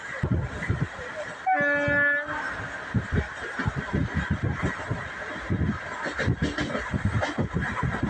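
A moving passenger train heard from inside a carriage on a journey in Kerala: a steady rumbling, rattling ride with a brief horn-like honk near the start and faint chatter from nearby passengers.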